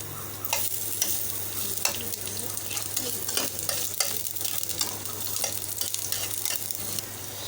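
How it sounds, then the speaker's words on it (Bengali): Chopped onion sizzles and fries in hot oil in a pan, a steady close crackling hiss with occasional stirring scrapes, no voices over it. "প্যানের মধ্যে দিয়ে দিয়েছি তেল, দিয়ে দিচ্ছি পেঁয়াজ কুচানো"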